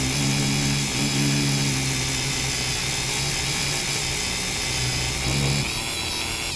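A spinning tool whirs steadily while a 240-grit emery board shapes a foam popper body for a topwater fly, a loud continuous whine with slight shifts in pitch as pressure changes, no talking.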